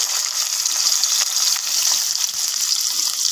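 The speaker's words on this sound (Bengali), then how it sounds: "পেঁয়াজটা ভেজে নিচ্ছি।" Onions with a bay leaf fry in hot oil in a wok, producing a dense, continuous hissing sizzle that sounds close and steady, with no voices.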